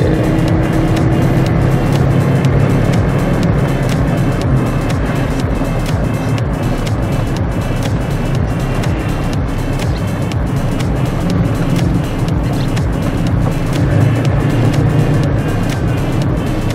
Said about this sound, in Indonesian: Ini Om Farid nih mesin mengalami upgrade nggak mungkin gini Mesin standar.